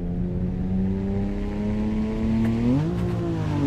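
A BMW engine in the racing video game Assetto Corsa drones steadily, then revs upward in pitch and settles again, continuous and close, with a smooth synthetic tone and no talking.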